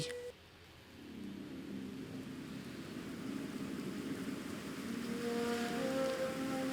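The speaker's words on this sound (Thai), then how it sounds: "ฝนตก" Steady rain falls across a temple grounds, a continuous close hiss of drops that thickens and grows louder toward the end, with a faint tonal hum appearing late; no voices.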